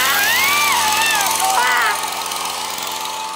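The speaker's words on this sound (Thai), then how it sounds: "ไม่ใช่เลื่อยธรรมดาครับมันคือเลื่อยยนต์" A chainsaw for cutting trees runs loud and close with a high, buzzing engine whine that wavers in pitch, then drops to a lower idle, with a voice calling out over it.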